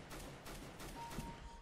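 Gunfire crackles in CS:GO, a dense burst of rapid shots blurring into a continuous rattle, loud and close throughout.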